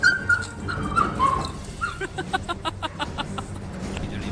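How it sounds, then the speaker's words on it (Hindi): A street dog being held tightly by a man whimpers and yelps as it struggles to break free, with high, broken whines at first and then a run of short rhythmic cries and scuffling, fairly close. "बेजुबान कुत्ता खुद को छुड़ाने की पूरी कोशिश करता है, तड़पता है, छटपटाता है"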